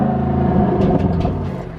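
A 2021 Audi RS6 Avant's engine holds a steady, loud revving drone that stays level as if pinned at the rev limiter, then eases slightly toward the end.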